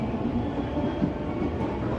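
A commuter train rolls over the tracks near Manggarai station in Jakarta at low speed through a construction zone, a steady close rumble with rhythmic wheel clatter and no pauses.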